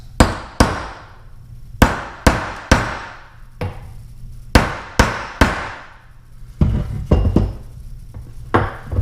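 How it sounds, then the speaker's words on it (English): Sharp metallic taps from a 3/8 inch extension driving a seal into a 1980s–90s 25 hp Johnson Evinrude outboard carburetor, about a dozen crisp ringing strikes in small clusters, close and loud, then lighter rattling handling. "And what I like to use is a small 3/8 inch extension. And just set it on top there and give it a few taps."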